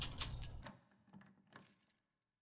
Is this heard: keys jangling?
yes